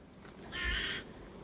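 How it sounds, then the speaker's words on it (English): A parrot-like bird gives a single harsh, raspy call lasting about half a second, moderately close, against steady outdoor background noise. "sounds like a parrot"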